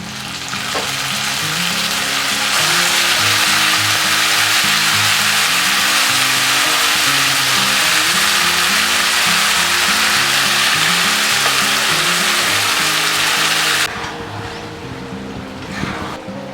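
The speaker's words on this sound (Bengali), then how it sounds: "পেঁয়াজটা ভাজা ভাজা হয়ে গেলে এবার দিয়ে দেবো ম্যারিনেট করা চিকেনগুলো" Marinated chicken goes into a pan of fried onions and a loud, dense sizzle surges close up, holding steady for about eleven seconds before dropping to a quieter frying hiss, with background music playing throughout.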